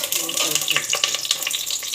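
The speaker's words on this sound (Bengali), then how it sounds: "চামচটা মেজে নিই।" A spoon is scrubbed under a running kitchen tap, a steady close splash of water with small clinks and rubbing, no voices.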